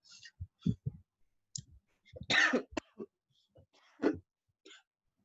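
Several sharp coughs and throat-clearing bursts, close and fairly loud, scattered irregularly over a few seconds with short quiet gaps between.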